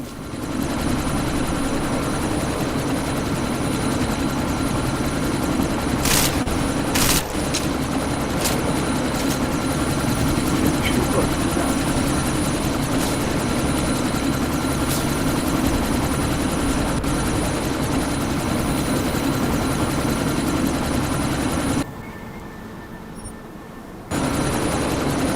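A helicopter in the Deus Ex video game gives off a loud, steady rotor-and-engine drone that runs almost the whole time, with a few brief sharp clicks and a short dip near the end before it returns.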